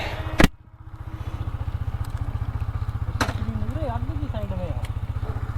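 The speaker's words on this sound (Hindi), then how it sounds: "तो ये बाइक निकाली अपनी।" A motorcycle engine idles steadily and close by, its even low pulsing running throughout, with a sharp knock near the start, brief clicks and a faint voice in the background.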